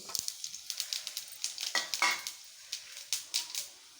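Cut tomatoes fry in hot oil in a pan, giving a close, crackling sizzle broken by repeated spatula scrapes and stirring taps, with no one talking.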